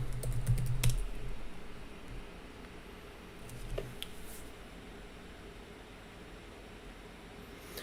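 Typing on a computer keyboard to log in, with a quick burst of close key taps at the start, then sparse, faint clicks over a quiet room hiss.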